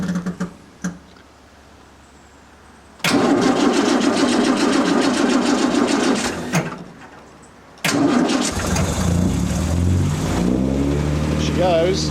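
An Austin-Healey 100/6 engine cranks and catches, runs briefly, cuts out, then starts again and settles into a steady idle, recorded up close.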